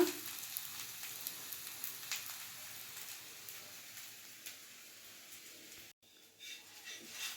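Rava roti, a crisp semolina flatbread, sizzles steadily as its second side cooks on a pan, with a soft continuous crackle and hiss that briefly drops out near the end before resuming.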